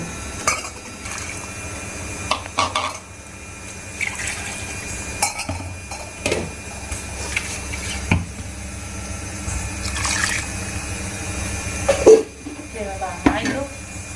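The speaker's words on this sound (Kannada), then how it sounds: "ಇದಕ್ಕೆ ನೀರು ಆ್ಯಡ್ ಮಾಡಬೇಕು ಮಾಡಿಬಿಡ್ತೀನಿ" Water is added to a pan of curry being made into a gravy in a home kitchen, a liquid pour and splash mixed with clinks of pots and utensils, with someone talking throughout.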